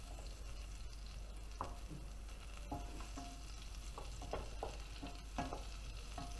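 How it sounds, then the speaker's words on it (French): Butter melting in a pan for a dry mushroom duxelles, a low steady sizzle with a few soft utensil taps and scrapes, fairly faint and without talk. "On va faire fondre le beurre."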